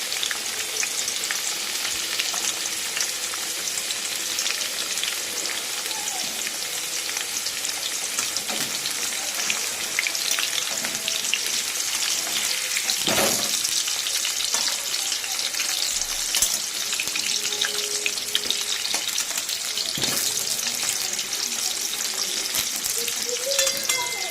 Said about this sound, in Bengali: আলুগুলো ভাজা হোক কমিয়ে কমিয়ে ভাজবো